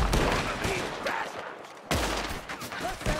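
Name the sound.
gunshots in the video game Red Dead Redemption 2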